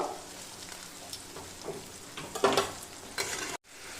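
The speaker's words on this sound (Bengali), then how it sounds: "আমি এখানে মশলাটা কষিয়ে নেব" Cumin and green chili paste sautéing in a pan with eggplant for a thin fish curry, a continuous sizzle under stirring scrapes and a few louder spatters, close, then a brief dropout near the end.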